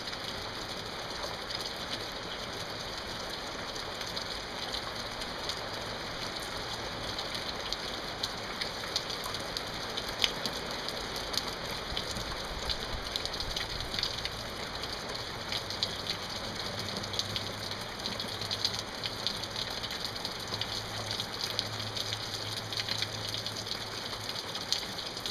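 Steady rain falls in a continuous, even hiss from start to finish, with scattered drops tapping on a nearby surface and a low rumble underneath; no one speaks.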